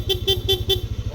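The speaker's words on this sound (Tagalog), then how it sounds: "Switch, busina, Corsa horn, long press, rapid." A Corsa dual horn fitted to a Yamaha NMAX V1 scooter honks in four rapid, evenly spaced bursts, loud and close, over a pulsing idle engine.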